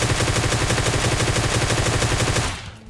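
Groza assault rifle firing in PUBG Mobile Lite, a loud, rapid, even burst of automatic shots close up, lasting about two and a half seconds before cutting off.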